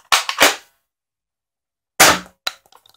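A Flipfury toy blaster fires in short bursts, two quick sharp cracks, a pause, then another crack followed by light clicks and rattles.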